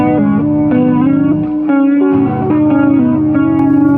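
A looped electric guitar phrase plays back at half speed on an MXR Clone Looper, low and thick with effects, chords shifting in a steady, continuous groove.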